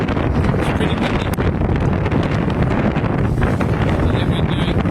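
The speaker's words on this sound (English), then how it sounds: "It's pretty windy." Strong wind roars across the microphone while a sailboat runs in 15 to 20 knot winds on the Bribie waters, a loud, continuous buffeting rush with splashing hull noise underneath.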